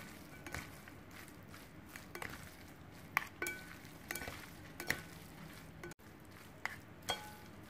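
Marinated beef being tossed with seasonings in a bowl for stir-fried rice noodles with jicama, soft wet stirring under scattered sharp clinks of a utensil against the dish, quiet and close with irregular rhythm.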